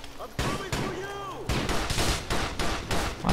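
Rapid bursts of GTA IV: The Lost and Damned gunfire crack in a quick series of sharp shots, with a brief whooshing tone early on.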